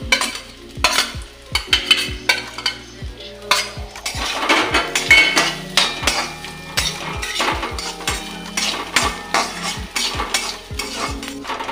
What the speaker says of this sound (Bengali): এবার নারকেল কুচিটা দিয়ে একটু নাড়াচাড়া করে নেব।